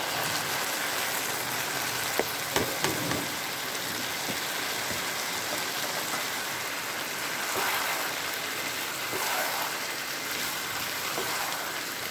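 Rice fries in a pot while chicken biryani is being cooked, giving a steady, even sizzle that lasts throughout. A few small clicks and pops from the pot cut in, and no one speaks.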